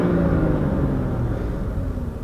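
A 2015 BMW M235i accelerates with a deep, steady engine rumble that rises gently in pitch, heard close and continuous from inside the car.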